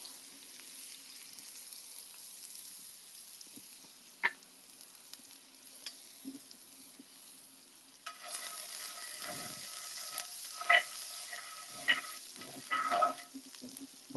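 Shallots hit a hot pan and start a soft, steady sizzle partway through, broken by a few sharp clinks and scrapes of a utensil against the pan. The hiss grows louder and denser in the closing seconds.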